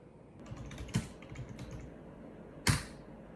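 Soft, close keystrokes on a computer keyboard as a sudo bash command is entered at an Ubuntu 20.04 terminal, with a few light taps and two sharper key presses, probably Enter, in an otherwise quiet room.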